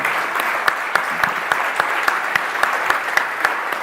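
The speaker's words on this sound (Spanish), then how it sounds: "Yo digo que eso merece un aplauso." Sustained audience applause at a business colloquium in Argentina, steady dense clapping with sharper individual claps standing out, continuous and moderately loud throughout with no talk over it.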